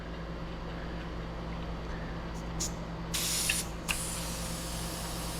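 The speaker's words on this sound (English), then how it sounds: "Gotta make sure all of the air is out." Air is let out of a road tubeless bike tire in short, sharp hissing bursts. The longest rush lasts about half a second, over a steady low background hum.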